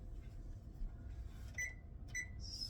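Oven control panel gives a few short, faint electronic beeps as it is set to 350, spaced apart over a quiet kitchen background.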